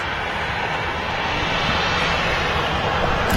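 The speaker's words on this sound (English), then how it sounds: "we'll make this aircraft our last departure" A Ryanair airliner departing Manchester Airport sends out a steady, broad jet-engine roar that stays loud and continuous with no talk over it.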